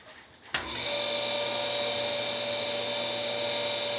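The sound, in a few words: water flowing into reverse osmosis system tank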